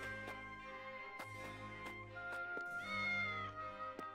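A cat meowing in the video game Triangle Strategy, a drawn-out tonal meow over soft game music with sharp clicking menu sounds, fairly quiet.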